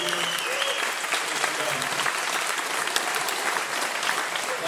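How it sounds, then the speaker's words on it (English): A crowd at an Alzheimer's charity ride gathering gives a sustained round of applause, dense even clapping filling the room, with scattered voices and cheers mixed in. "Hope everybody got some round of applause."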